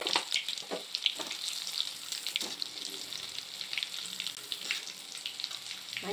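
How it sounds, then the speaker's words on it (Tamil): Garlic fries in oil for a poha mixture, crackling and sizzling softly close by in uneven bursts with light pops over a quiet background. "நல்லா பூண்டு பொரிஞ்சிருச்சு"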